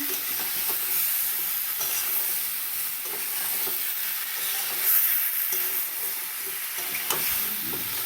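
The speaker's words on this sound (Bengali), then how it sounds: "এবার একটু ভালো করে এইভাবে আমি কষিয়ে নেব" Fried drumstick stalks being stir-fried with tomato in a pan for a hilsa fish dish, a continuous close sizzle and steamy hiss with soft scraping and a few louder stirring clacks, no talking.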